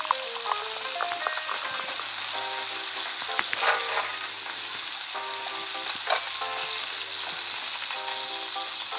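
Fries frying in a Nintendo 3DS cooking game demo, a continuous loud sizzle with small blips and tones from the game layered on top, and no talking.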